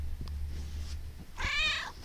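Two cats, a male and a female, squabble and slap at each other, with a loud drawn-out meow rising near the end over soft scuffling and low background hum.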